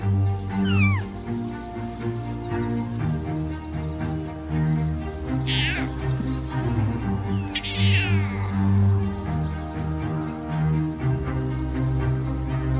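Lion cubs in a pride call out with short, rising mewing cries, a few distinct calls standing out over a steady low background of ambient sound in the wild.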